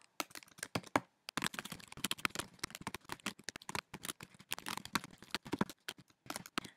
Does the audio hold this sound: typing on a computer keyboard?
yes